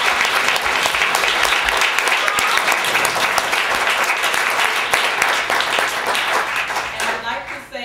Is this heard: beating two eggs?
no